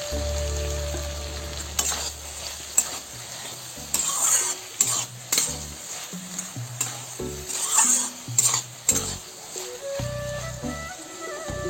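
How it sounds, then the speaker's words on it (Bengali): Vegetarian fried taro stolons (kochur loti) crackle in a pan as a spatula stirs them, giving a loud close sizzle punctuated by repeated scraping and clinking strokes, with no speech. "এই যে আমার কচুরলতিটা এই যে ভালো করে ভাজা হয়ে গেছে"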